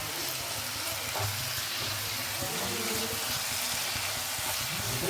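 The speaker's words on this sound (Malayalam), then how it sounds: "വെളുത്തുള്ളി, ഇഞ്ചി, പച്ചമുളക് പേസ്റ്റ് ആക്കിയത് ഇടുക. ഇളക്കി കൊടുക്കാം." Onion with garlic, ginger and green chili paste sizzles in hot oil while being stirred for biryani, a soft continuous frying hiss with faint scraping, fairly quiet and unbroken.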